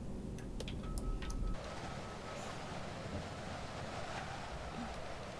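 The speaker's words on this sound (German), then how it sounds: "Ich weiß nicht, wo diese Windgeräusche herkommen." Steady broadband wind noise rushing continuously in Train Simulator Classic, around an ÖBB Cityjet 4746 train, with faint clicks early on and no speech.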